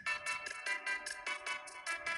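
A loud remixed phone ringtone plays as a series of bright, rhythmic synth bursts, about ten evenly spaced pulses in quick succession, with no talking over it.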